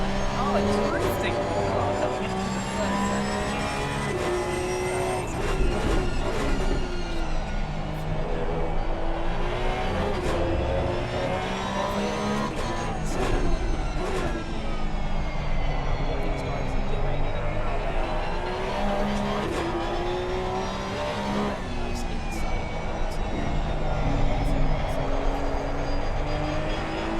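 Race car engines drone and shift through gears on the Hungaroring track in Assetto Corsa Competizione, a sustained loud mix of revving and passing cars, with a voice talking throughout.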